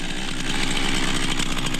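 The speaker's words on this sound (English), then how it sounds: "He running with a running chainsaw on his chin." A running chainsaw balanced on a man's chin, its engine buzzing steadily and loudly at a constant pitch, close and alone for the whole stretch.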